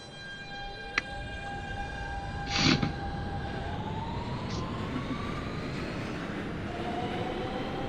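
A simulated New York City subway R160 train runs late at night toward Brighton Beach, a steady rumbling drone with high electric whines sliding in pitch, a sharp click early on and a brief louder burst shortly after.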